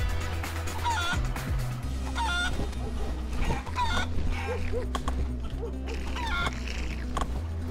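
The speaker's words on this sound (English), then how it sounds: "I like clucking." Chickens cluck repeatedly in the Guacamelee video game, sounding in short, regular bursts over a steady low music hum, moderately loud and close, with no talk over them.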